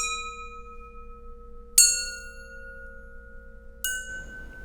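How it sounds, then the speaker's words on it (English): A homemade metal chime cut from shower curtain rail rings with three distinct strikes, each giving a bright metallic attack and long sustained tones that ring on and decay slowly, close and clear with no talk. "Next we have the metal chime."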